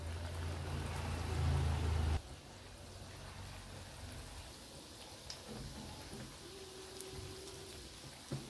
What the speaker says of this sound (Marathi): मध्यम आचेवर भजी तळून घेणार आहोत